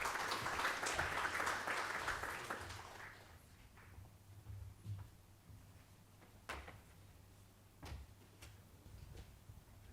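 Brief audience applause at a panel event on Islamic psychology, loud at first and fading after a couple of seconds into a quiet room with scattered knocks and faint shuffling.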